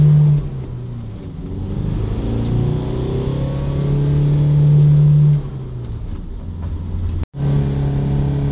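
Loud VW van diesel engine revved close up in sustained rising and falling pulls, drone swelling to a peak then settling, with a brief sharp click near the end.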